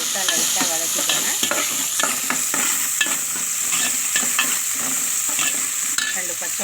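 Small onions sautéing in a pan with fenugreek and curry leaves for a home-made fish curry: a steady sizzle of frying with repeated scraping stirs of a spoon against the pan.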